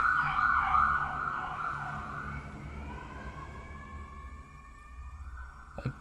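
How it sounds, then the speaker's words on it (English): A siren wails loudly at first, then fades as it moves away into the distance, with faint traffic noise underneath. "Is that a siren?"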